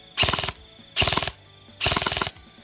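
Three short bursts of rapid automatic fire from an MK18 airsoft rifle, each a tight string of clicking shots, separated by brief pauses of quiet.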